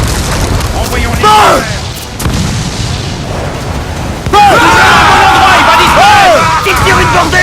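Ship cannons firing a broadside in Assassin's Creed Black Flag, a loud dense rumble of booms and blasts in busy naval combat, with shouting voices and other game noise throughout.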